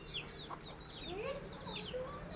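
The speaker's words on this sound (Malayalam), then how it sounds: "നമുക്ക് ഇത് 9 കോഴിക്കുഞ്ഞുങ്ങളാട്ടോ" Several young chicks cheep in a small group of about nine, thin high peeps scattered throughout, with faint low clucking from adult fowl mixed in and steady background noise.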